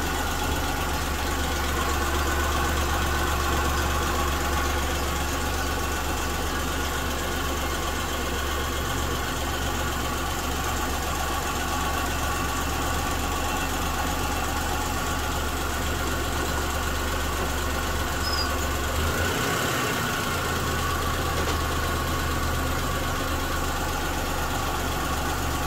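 A car engine idles steadily with a low, constant hum and faint vibration throughout, briefly shifting in tone near the end as it is adjusted while a tachometer is being installed.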